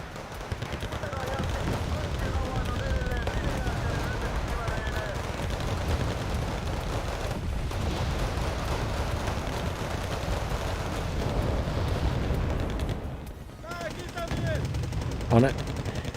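Dense gunfire and explosions fill a battle in the real-time strategy video game Wargame Red Dragon, with sustained bursts and rumbling blasts that continue loudly throughout and briefly thin out near the end.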